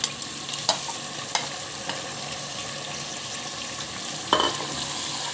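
Spice masala fries with mutton for a Hyderabadi mutton korma, a steady sizzle broken by several sharp spoon knocks against the pan while it is stirred, close and without talk.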